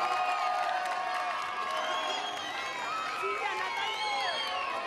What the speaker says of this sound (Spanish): Por chillidos, aplausos. ¡El equipo B!